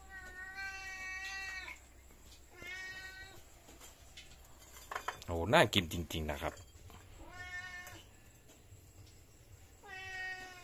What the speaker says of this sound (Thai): แมวก็มากินแล้วครับ